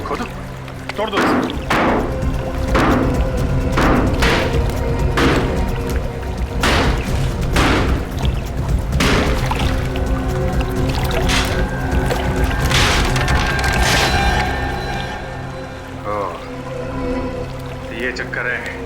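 Water inside a buried water tank that is being dug out and broken open, a constant watery churn heard under dramatic music and loud, urgent voices, with repeated sharp impacts throughout.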